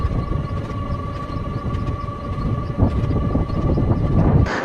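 The 17229 Sabari Express with ICF coaches running on the Palakkad main line, heard from on board as a loud, steady rolling rumble with a sustained hum and occasional rail clanks.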